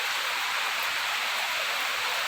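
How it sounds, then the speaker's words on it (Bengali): Heavy rain pouring down outside a home, a dense, even wash of hiss that never lets up or changes in strength. "বাবা আস্তে আস্তে তো আরও জোর নামছে বৃষ্টি"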